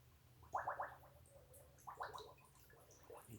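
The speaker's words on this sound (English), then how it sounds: "you just submerge them down into your pail of water" A beaver hide being pushed under in a pail of water gives faint, quiet gurgles in two short bursts of bubbling, with no talk.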